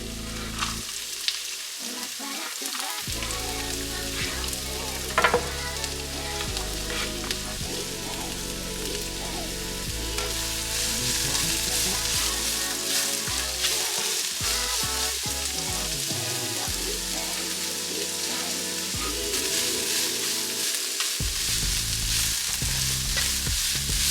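Jamaican pepper shrimp frying with seasoning in a hot pan, a loud, steady sizzle with crackling pops and occasional stirring scrapes, close up and continuous without talk.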